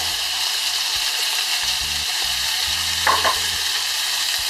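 Celery fries with beef in a hot pan and is stirred: a loud, close, steady hiss of frying, a low hum underneath, and a short scrape of the spoon near the end.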